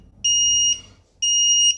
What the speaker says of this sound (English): Now the alarm is being triggered.